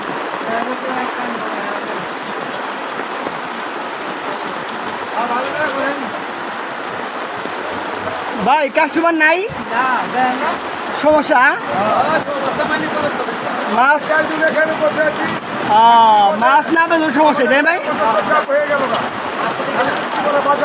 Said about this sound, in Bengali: মাছ বাজার বৃষ্টি হচ্ছে